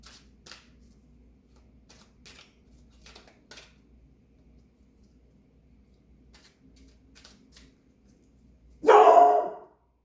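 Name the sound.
dog barking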